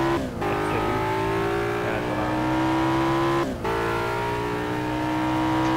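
A BMW M3 racing car engine in the PC racing game BMW M3 Challenge, a loud sustained revving drone with two brief dips for gear changes as the pitch climbs again.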